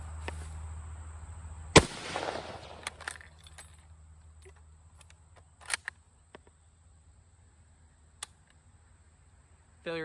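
A rifle fires surplus 1954/1955 Argentine 8mm ammunition, one sharp loud report followed by a decaying echo, then scattered clicks and small metallic handling sounds.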